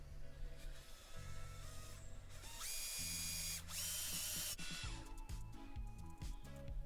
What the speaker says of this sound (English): so I drilled a quick pilot hole